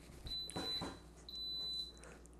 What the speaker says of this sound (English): hear that beep?